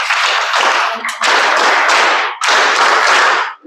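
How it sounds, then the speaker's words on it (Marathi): An audience applauds bank officials at a gathering: loud, dense clapping fills the room and swells in two long waves separated by a brief dip, with no talking over it. "तर ह्या टाळ्या ज्या वाजवल्या त्या पण आहेत"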